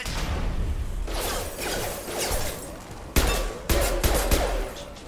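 Gunfire in Mass Effect 2 during an escape from closing security mechs: a dense stream of rapid shots with whooshes, followed by several sharp, loud bursts near the end, close and without voices.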